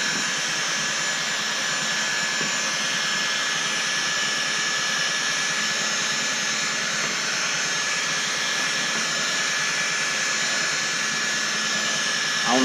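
A hot heat gun blows air onto Hellcat decals on a Jeep Grand Cherokee SRT, a loud, steady, unbroken airy roar that holds for the whole stretch.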